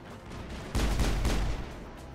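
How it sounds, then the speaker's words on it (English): Gunfire in the video game Mass Effect: two loud, broadband shot bursts close together near the middle, ringing briefly over a steady low game background. "Where is he shooting me from?"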